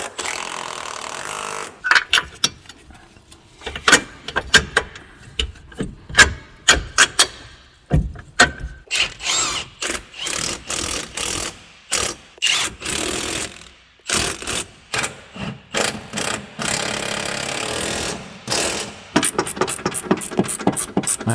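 Sway bar link being tightened on a car, with a rapid run of sharp ratcheting and impact-tool bursts, loud and close, stopping and restarting in choppy clusters with brief silent gaps.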